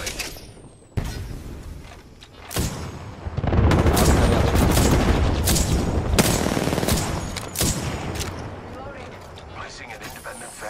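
Heavy video game gunfire in a chaotic shootout, with sharp bursts and sustained automatic fire that swells into a dense, loud barrage, then thins into scattered shots and booms.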